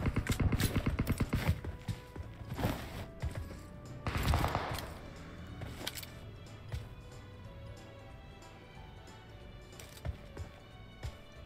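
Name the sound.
gunfire in PUBG Mobile video game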